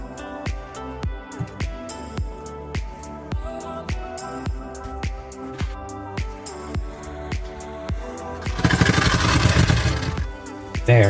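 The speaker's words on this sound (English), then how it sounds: "Do you hear the free spinning part of just touching the stadium?" A Beyblade Burst top with a free-spinning tip spins in a stadium, giving a string of sharp rhythmic rattling clicks as it touches the surface, then a louder burst of dense grinding noise near the end.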